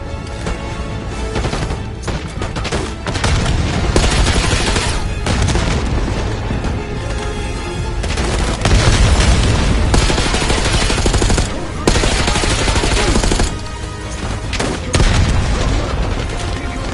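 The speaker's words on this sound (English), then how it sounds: "Tossing grenade." A grenade blast and heavy gunfire in a Call of Duty Black Ops 6 campaign mission: booming explosions and rattling automatic bursts, loud and close, with occasional voices mixed into the chaos.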